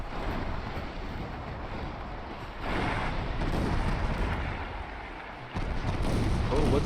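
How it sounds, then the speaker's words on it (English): Deep, rumbling naval explosions from torpedo hits in the Sink the Bismarck video game, a dense roaring wash that swells around the middle and surges again near the end, loud and continuous with no talk. "Whoa, we got 6 torpedo hits."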